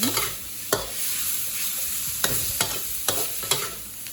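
Pork neck stir-fried in a hot pan, loud steady sizzling broken by four or five distinct spatula scrapes against the metal, close and without speech.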